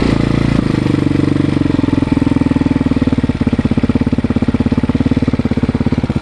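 A new 2019 Taotao TBR7 230cc dual-sport motorcycle idles steadily during break-in, its single-cylinder engine putting out a close, even, rapid thumping beat that stays loud and unbroken throughout.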